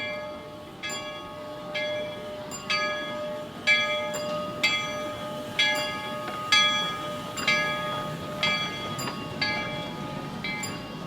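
A loud railroad crossing bell dings repeatedly at a steady, even pace over a constant mechanical hum, with no voices, at the Calico Railroad at Knott's Berry Farm.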